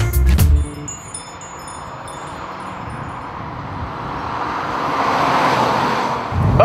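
A Volkswagen CrossPolo 1.6 passes by with a short thump, then a steady road and wind roar that swells as it approaches and nears, no voices.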